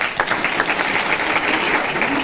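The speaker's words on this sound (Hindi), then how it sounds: "यस, बजाओ ताली।" Children at a women's helpline awareness session in Jhansi clap together in a brief, continuous burst of many small hands, close and steady.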